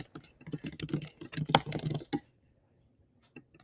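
Rapid keystrokes clatter on a computer keyboard for about two seconds, close and crisp, then stop into near silence broken by a few isolated taps.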